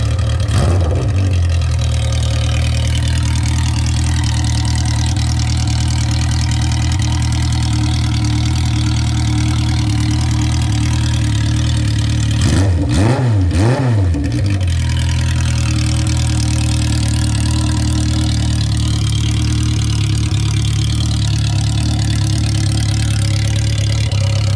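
Custom-built Honda CB500/CB750 motorcycle engine fired up and held at a loud, steady idle, with a brief blip of revving partway through, close and continuous with no talking.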